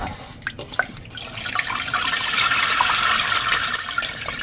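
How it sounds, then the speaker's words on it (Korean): Cold water poured over soaked malt and strained through a sieve while making sikhye, a close, steady splashing and trickling of liquid with a few drips at the start, no talking. "찬물을 1000cc 정도 더 붓고 체에 거릅니다."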